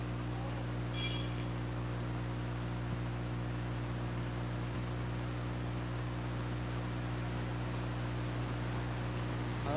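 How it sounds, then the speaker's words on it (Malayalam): Heavy rain falling in a steady, dense wash of hiss, constant and even throughout with no pauses, over a low droning hum. "വീണ്ടും മുറുകിട്ടോ മഴ മുറുകി"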